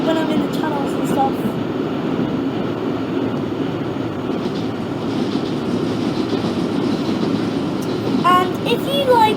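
Central Line train running through tunnels in the Open BVE train simulator, a continuous low rumbling roar with faint rail clatter and a brief high squeal of wheels near the end, steady and close throughout.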